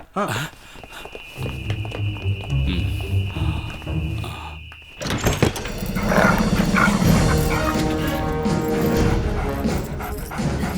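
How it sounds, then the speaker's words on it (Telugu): A dog barks and yips excitedly amid loud, busy commotion, with people talking and scuffling noises throughout. "అయ్యో కుక్క"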